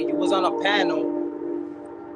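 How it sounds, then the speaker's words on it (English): A passing train sounds a steady, loud horn that drones under a man's speech, holding level for a couple of seconds before easing slightly. "Excuse the train, man."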